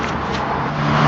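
A car engine revving as the driver steps on the gas, a brief low rumbling drone that swells slightly toward the end.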